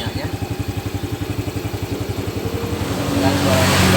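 A Yamaha Vega ZR motorcycle engine runs close by at a steady, even idle pulse, then revs up and grows louder toward the end.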